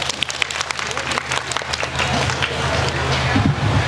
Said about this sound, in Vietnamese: Một tràng pháo tay nữa cho anh Hoàng Hải đúng không ạ?